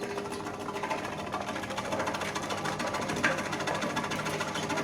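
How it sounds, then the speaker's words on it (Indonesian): A shallot slicing machine runs with a steady, fast mechanical chatter and rapid rhythmic ticking, moderately quiet and continuous with no voices. "Mesin perajang berambang"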